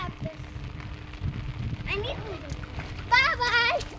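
Steady rain patters outdoors while children bathe and play in it. The hiss runs throughout, with children's voices and an adult talking over it, and louder excited voices near the end.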